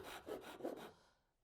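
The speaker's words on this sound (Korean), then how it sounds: "버리는 선까지만 톱질 해볼게요." A hand saw cutting wood down to the waste line for a three-way mitre joint, heard as two or three close, soft rasping strokes that trail off into quiet.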